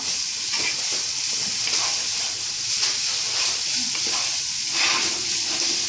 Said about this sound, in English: I am going to continue stirring kind of to fry the cabbage